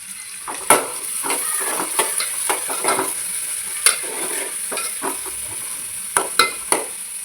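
Onion fries in hot oil with a soft steady sizzle, broken by repeated sharp clinks and scrapes of a spoon stirring against the pan at irregular intervals.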